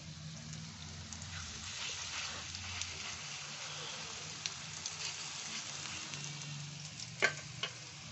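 Eggplant fritters fry in mustard oil over medium heat, a quiet, even sizzle with faint bubbling and a few sharp pops and clicks toward the end, no voices.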